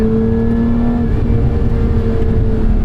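A Lotus Emira sports car accelerates hard with aggressive upshifts, its engine a loud, close, sustained drone with steady tones and a brief dip in pitch partway through.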